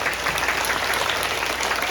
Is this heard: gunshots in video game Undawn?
no